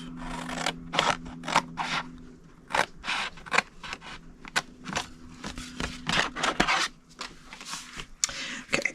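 Scissors snip through patterned paper along a score line while crafting a Christmas treat box, a quick irregular series of close, crisp cuts and rustles with short pauses between.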